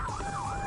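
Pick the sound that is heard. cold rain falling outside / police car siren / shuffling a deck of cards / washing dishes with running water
police car siren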